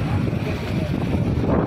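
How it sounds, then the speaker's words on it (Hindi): Stormy wind blows hard at the Kaaba in Mecca during rain, a loud, continuous rushing roar buffeting the microphone with no break across the whole moment. "वो तूफानी हवा चल रही है"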